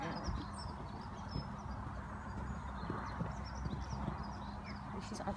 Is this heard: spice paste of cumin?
no